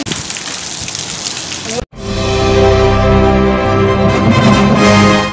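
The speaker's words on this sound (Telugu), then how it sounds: "భారీ వర్షం పడుతుంది" Heavy rain falls over LB Nagar and nearby neighbourhoods, a loud, dense hiss for under two seconds that cuts off abruptly into a steady tonal, music-like sound.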